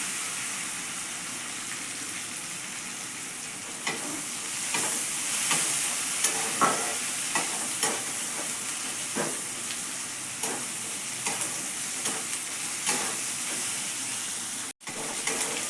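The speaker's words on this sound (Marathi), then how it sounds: "तर आपला हा टॉमॅटो भाजून झालेला आहे" Chopped tomatoes with a pinch of salt sizzle steadily in a pan, a constant close hiss broken by repeated clicks and scrapes of stirring, with one sharp knock near the end.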